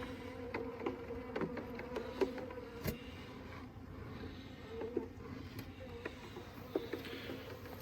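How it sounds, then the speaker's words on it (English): Honey bees crowd a hive-top dome feeder full of sugar, making a close, steady buzzing hum with scattered wing flutters and small ticks and taps. No one speaks. "The bees are already in there taking it."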